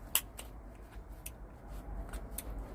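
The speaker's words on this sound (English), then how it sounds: "So I'm going to take these scissors." Scissors snip through rucksack webbing to harvest a D-ring, giving a few sharp crisp cuts spread across a quiet background.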